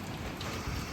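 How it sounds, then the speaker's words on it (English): Steady rain falls on a street in Da Nang, a dense, even hiss of drops heard close with no talk. "It is raining."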